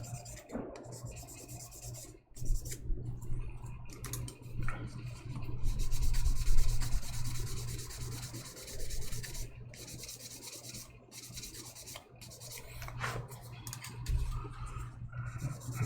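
Close, rhythmic scratchy rubbing of sandpaper, back and forth in uneven strokes with brief pauses, over a low steady hum.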